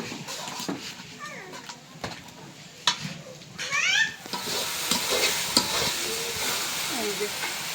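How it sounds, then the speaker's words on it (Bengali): Chili powder, coriander powder and onions fry in a pan, a close, steady sizzle and hiss that swells after a few seconds, with scraping stirring strokes, occasional clatter and a faint voice in the background. "মশলাটা অনেক সুন্দর করে ভাজা ভাজা করে নিলাম। পেঁয়াজগুলি একদম রেস্তার মতো করে ভাজছি"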